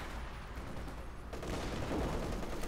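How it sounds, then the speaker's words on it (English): Gunfire in the Company of Heroes 2 strategy game, a muffled rattle of distant automatic bursts that grows denser and louder midway through, with no talk. "We do get a machine gun out there for Ghost as well"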